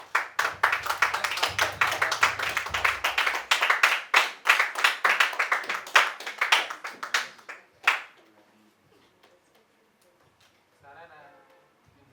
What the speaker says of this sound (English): A round of applause as the judges continue.